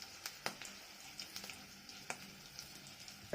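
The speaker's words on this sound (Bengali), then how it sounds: "কাঁচা লঙ্কার সাথে জিরেটাও ভেজে নেব" Green chillies and whole cumin seeds frying in hot oil, a quiet, steady sizzle with scattered soft pops and crackles, close by and with no talking.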